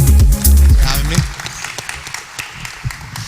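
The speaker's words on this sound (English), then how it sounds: "Give him a round of applause" A room applauds at a decentralized cloud conference in Austin, scattered claps rising after a loud voice talks over the start and then thinning into sparse individual claps.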